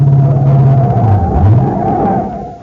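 Old-time radio drama effect of a car leaving a mountain road curve: a loud, close engine roar with a deep rumble that drops in pitch and falls away as the car goes over.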